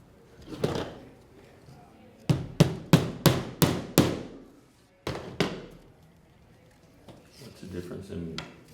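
Track spikes hammered into plywood on a model railway layout: a run of six sharp, evenly spaced strikes, then another pair after a pause, close and loud, with talking before and after.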